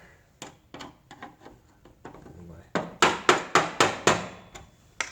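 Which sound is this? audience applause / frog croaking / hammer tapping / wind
hammer tapping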